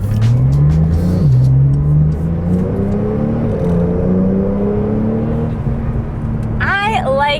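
Engine of a 2021 992 Porsche 911 Turbo Cabriolet revving and accelerating, a loud, steady, rising engine drone heard close from inside the car, with speech over it near the end.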